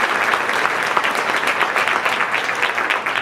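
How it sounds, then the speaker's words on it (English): Steady, full audience applause at an international trade luncheon during a chambers of commerce convention, a sustained dense roar of many hands clapping close by with no pauses. "the Northern Region gives itself a round of applause"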